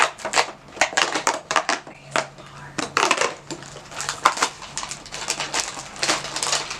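Crinkly plastic packaging of a Popin Cookin candy kit being torn open and handled, with repeated sharp rustles and crackles in irregular bursts, close and fairly loud.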